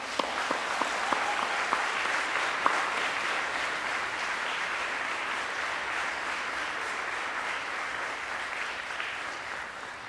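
Graduation ceremony audience applauds in a large hall, a sustained, even wash of many hands clapping at moderate distance, with a few sharper claps standing out early on.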